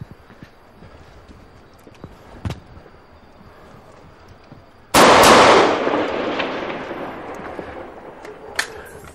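Quiet ambience with a few isolated sharp cracks, then a sudden loud burst of rapid gunfire, about thirty shots, that rolls on and slowly fades, with another crack near the end, in La Sierra, Medellín.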